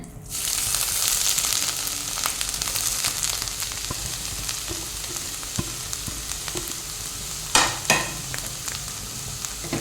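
Beetroot fries in ghee in a pan for a sweet dish, a steady close sizzle throughout with brief scraping stirs and a couple of sharp clatters near the end; nobody speaks.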